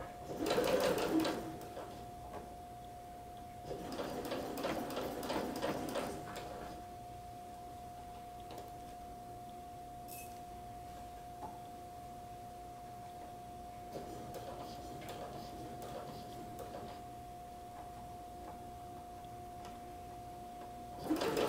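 A home sewing machine stitches down gathered sleeve fabric in three separate bursts of rapid, even needle rattle, close and moderately loud, with quiet pauses and a steady motor hum between runs.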